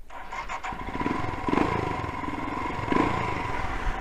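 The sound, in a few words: borrowed motorcycle engine dying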